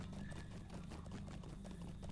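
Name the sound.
horse hooves clip-clopping while riding, from video game Lord of the Rings Online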